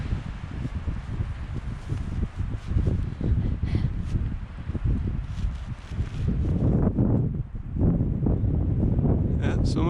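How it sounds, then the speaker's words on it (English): Strong wind gusts on a Colorado mountain trail in Deer Creek Canyon, a steady loud roar buffeting the microphone with rustling and surges that swell stronger in the second half. "Starting to pick up a lot of wind."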